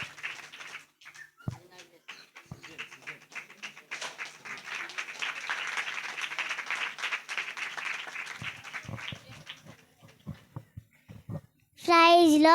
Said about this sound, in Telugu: మనం ఆశ్రయించిన మన దేవుడికి మరొకసారి గట్టిగా క్లాప్స్ కొడదామండి